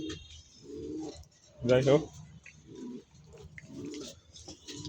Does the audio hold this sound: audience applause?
no